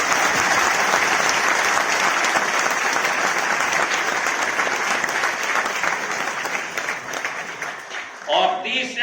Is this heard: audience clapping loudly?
yes